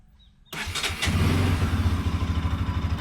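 A Bajaj Pulsar NS 200 BS6 motorcycle, its start circuit bypassed, cranks briefly and then fires into a loud, close, steady idle with a pulsing, throbbing beat, with no talking over it.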